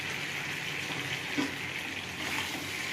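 Fish fries in hot oil with spices and green chilli, a steady close sizzle and hiss holding constant throughout, with faint stirring crackles and no talk over it.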